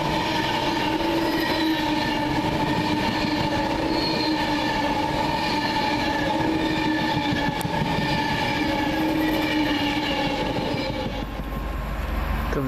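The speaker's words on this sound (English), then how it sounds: "We'll assume this is a Virgin coming in from Preston going to London Euston." Virgin Class 390 Pendolino electric train pulling into a station near Birmingham, a steady loud rumble with tonal motor whine and faint wheel squeal holding throughout, heard from the platform close by.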